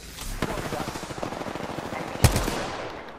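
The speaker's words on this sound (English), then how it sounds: "Opening fire on an enemy." Rapid automatic gunfire from a multiplayer shooter game rattles in a dense, continuous burst at close range, with a sharper single blast near the end and faint background game noise.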